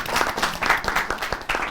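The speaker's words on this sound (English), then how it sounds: "A round of applause for Dina." An audience applauds in a brief, dense burst of many hands clapping together, close and lively, with no voices over it.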